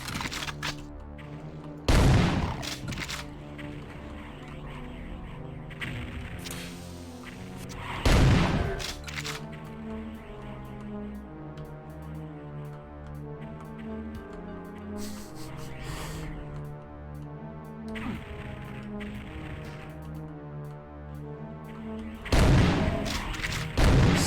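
Repeated gunshots and heavy blasts from the video game Final Doom, with three loud booming explosions standing out over a steady layered game soundtrack.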